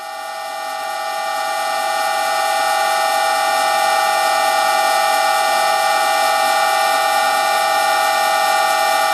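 An old restored lathe runs at 600 RPM with a loud, steady, unbroken mechanical whine that swells in the first seconds and then holds constant.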